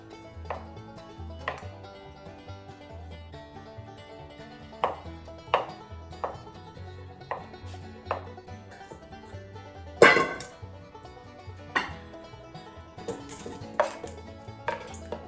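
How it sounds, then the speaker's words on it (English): Potatoes chopped fairly fine with a knife on a board for egg potato salad: sharp, uneven knife knocks spaced irregularly, close and fairly crisp, with a louder cluster of rapid chops near the middle. "Now you want to go ahead and chop them fairly fine."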